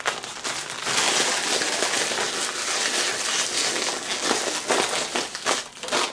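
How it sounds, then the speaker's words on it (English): Steady, loud crinkling of a crisp plastic Lay's potato chip bag, continuous rustling and crackling with sharper bursts toward the end, no talking. "I'm going to try not to make too much noise crinkling the bag"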